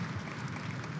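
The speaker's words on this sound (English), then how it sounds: "Tyus able to get up and gets a hand from the crowd." A basketball arena crowd at a college game applauds as an injured player gets back up, a steady wash of clapping throughout a brief moment.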